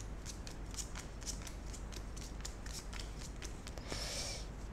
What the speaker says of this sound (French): on va faire 1, 2, 3, comme ça, on va essayer de les mélanger un petit peu